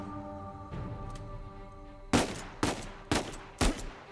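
Four sharp, loud gunshots ring out in a steady rhythm from Uncharted 4: A Thief's End, set in Scotland, each one trailing off in a short echo after a stretch of quiet ambient hum.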